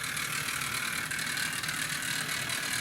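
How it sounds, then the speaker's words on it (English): A Hornby Duck model locomotive running slowly, its motor gears giving off a steady, fine metallic clatter and whirr that continues without pause, close by. "you can definitely hear the clatter of the motor gears"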